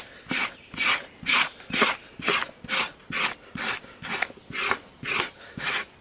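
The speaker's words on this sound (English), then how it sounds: "here how clean this section is that I'm scraping with the hair going down this way." An animal hide is scraped to remove hair for hide glue, about a dozen rhythmic rasping strokes at an even pace, close and alone with no talking.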